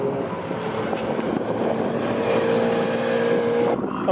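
A Mercedes-AMG 6.3-liter V8 revs at a seaside cars-and-coffee meet, a loud steady engine roar held for several seconds before cutting off sharply near the end, with no talk over it.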